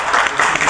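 A studio audience claps for Sébastien, a stand-in guest thanked at a casting event at the Paulette centre; brief, dense broadband clapping, steady and fairly close, with no voices over it.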